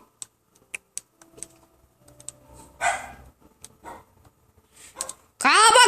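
A dog barks loudly near the end, following scattered keyboard typing and tapping in a quiet room, with a person speaking in between.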